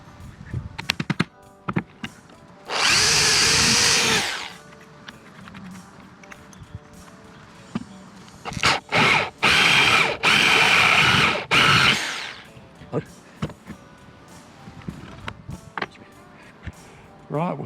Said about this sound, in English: Just going to drill a hole in it that's big enough for my finger to just pull it up